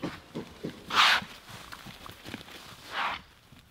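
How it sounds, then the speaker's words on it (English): Quick, light hoofbeats of pigs patter across soft pasture ground as they run past, with a couple of brief snorting bursts standing out. "You want to see a pig run?"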